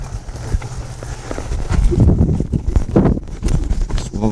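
Quick, heavy hoofbeats from a cutting horse working a cow pound and scrape in bursts, louder in the middle, with wind buffeting the microphone.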